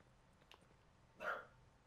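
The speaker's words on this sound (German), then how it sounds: "Ach, mein blöder Hund, ey. Kläfft schon wieder." A single short bark from a pet dog in a room, faint and somewhat distant, against a quiet background.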